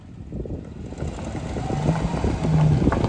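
A 2013 Chevrolet Silverado pickup engine running steadily while the truck shifts into four-wheel-drive low, a low rumbling idle that grows slightly louder, with a faint whine near the end.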